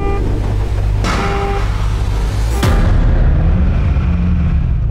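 A supercar engine revs sharply at a race start, a loud roar that swells, cuts off and then surges again into a deep, rising engine drone close by.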